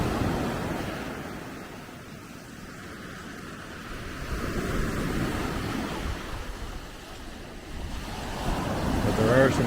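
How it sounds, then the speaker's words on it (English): Ocean waves break on a beach in slow, washing surges that rise and fall over several seconds, mixed with gusty wind buffeting the microphone. "But there are some breakers."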